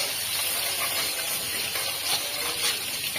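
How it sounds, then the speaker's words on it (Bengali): Spice paste with turmeric and a little rice flour frying in a pan in a village kitchen, a steady broad sizzling hiss that holds at an even level without speech. "মশলাটা ভেজে নিচ্ছি"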